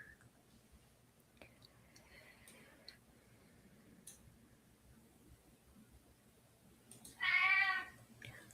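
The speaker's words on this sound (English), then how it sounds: "Our cat says hello, by the way." A house cat gives a single loud, clear meow near the end, close to the microphone, after several seconds of quiet room noise with faint ticks.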